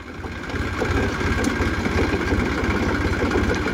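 A farm tractor engine runs at a steady idle, its low rhythmic chugging loud and close throughout with faint ambient noise from the field around it.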